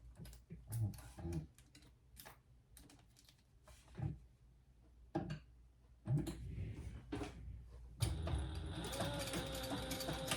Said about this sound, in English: we are going to sew that just down this side at the seam allowance in the pattern